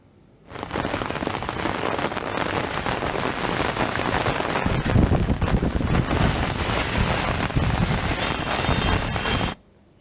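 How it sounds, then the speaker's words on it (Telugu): Heavy rain pours over Hyderabad in a dense, loud, steady roar of drops hitting surfaces, with a little wind buffeting the microphone. It starts abruptly and stops abruptly after about nine seconds, with no voices. "హైదరాబాద్ నగరంలోని పలు ప్రాంతాల్లో వర్షం దంచి కొట్టడంతో వాతావరణం మరింత చల్లబడింది"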